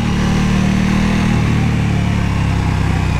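A KTM Super Duke 1290 R EVO motorcycle on a hill road between Penice and Val Trebbia runs loud and close, its engine droning steadily, then easing off as the tone drops midway.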